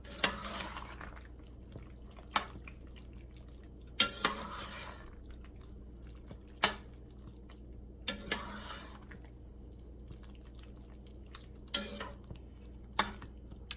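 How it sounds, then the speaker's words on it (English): Stirring shredded mozzarella and Parmesan into pasta in a pot: quiet, close, sticky stirring with periodic sharp clinks of a utensil against the pot, spaced every second or two. "I'm going to give that a stir till it's nice and melty."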